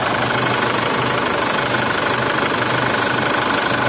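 A Chevrolet Captiva diesel SUV engine idles close by with a steady, low, rattling rumble and a faint knocking pulse throughout.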